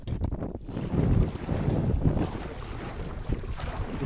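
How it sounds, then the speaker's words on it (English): Wind blowing while paddling an Emotion Stealth 11 Angler kayak on open water: steady, loud rumbling gusts buffeting the microphone, with faint splashes and water movement underneath. "You can see that the wind is making it difficult."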